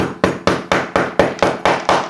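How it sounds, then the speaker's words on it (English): A chasing hammer with a big, wide, flat head packs casting clay down for sand casting a ring, giving eight regular, sharp, close blows about a quarter second apart, each a crisp thud with a short decay. "And then I have my chasing hammer to compress it."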